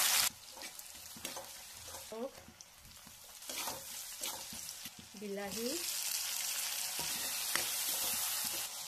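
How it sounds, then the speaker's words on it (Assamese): Chopped onions drop into hot oil in a wok and begin to fry, starting quietly with a couple of brief voiced sounds before a bright, loud, steady sizzle builds and holds up close. "এতিয়া মই কেৰাহীত অলপ তেল দি ল'লোঁ এতিয়া মই পিঁয়াজখিনি দি দিলোঁ"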